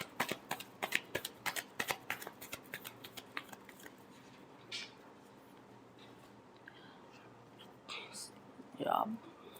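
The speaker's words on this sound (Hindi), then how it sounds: "चलिए लास्ट शफल।" Tarot cards are shuffled by hand in a quick run of crisp riffling clicks over the first few seconds, then it goes mostly quiet before a brief closer rustle near the end.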